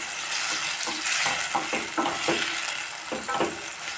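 Chopped tomatoes sizzle steadily in a pan for coriander chutney, while a spoon stirs them with soft scraping strokes. It is close and fairly quiet, with no talking.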